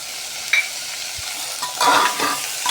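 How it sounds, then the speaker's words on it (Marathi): Green chili paste sautéing in hot oil in a pan, a low frying hiss broken by a few spatula scrapes and a brief swell of sizzling toward the end; no talking. "ते पण छान परतवून घेऊया तेलावर."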